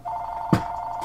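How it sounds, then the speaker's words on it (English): A phone rings indoors with a steady electronic tone held throughout, briefly interrupted by a short thump partway through. "Frick, phone! Where is it?"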